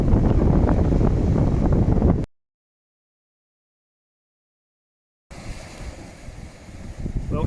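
Strong wind and starting rain blow across the beach at Dymchurch during a fishing session, a loud, rough roar of buffeting on the microphone that cuts out for a few seconds and then resumes.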